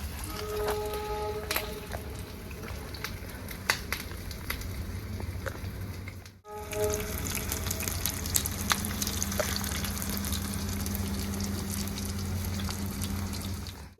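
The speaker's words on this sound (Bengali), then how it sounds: "তো বন্ধুরা তেলটা আমার গরম হয়ে গেছে। এবার প্রথমে একটা দিয়ে দেখি, একটা একটা করে ফ্রাই করবো।" Chicken tikka pieces frying in hot oil give a steady, dense crackle and sizzle that continues without a break, with a short dip partway through before the frying picks up again.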